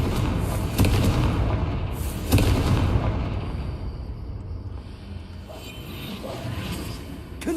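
Confringo fire spell explosions in Hogwarts Legacy, a video game: two heavy booming blasts about a second apart, each with a crackling burst, then a quieter rumbling tail and a few softer pops.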